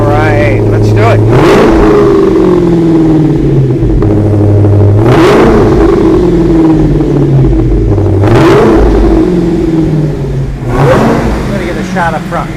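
A supercharged engine fires up and is revved repeatedly, four loud swelling bursts that each fall back to a rumbling idle, with a whining tone, up close, with voices in between.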